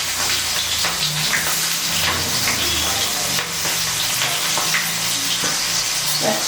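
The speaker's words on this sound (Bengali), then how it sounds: "পেঁয়াজ কুচি দিয়ে আমি একটু হালকা নেড়ে করে নেব। এটাকে একটু লাল লাল করে ভেজে নেব।" Chopped onion fries in hot oil with whole garam masala, dried red chillies and bay leaves, a loud continuous sizzle and crackle with occasional stirring scrapes, close up with no talking.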